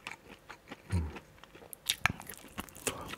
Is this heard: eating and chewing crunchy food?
yes